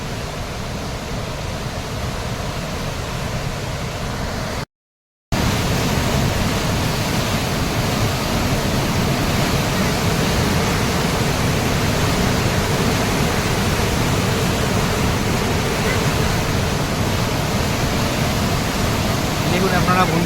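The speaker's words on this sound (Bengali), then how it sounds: "দেখুন জলের কি তোড়, দেখুন এখানে" Water from the Kangsabati dam at Mukutmanipur rushes loudly in a dense, unbroken roar with a brief gap, close and overpowering.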